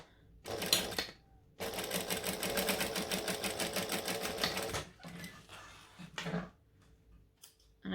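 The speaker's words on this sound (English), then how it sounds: "And then we're going to stitch." Sewing machine stitching a coffin-shaped wallet, running in a short burst, then a longer steady run of rapid stitching, followed by a few brief stop-start bursts, close and clear.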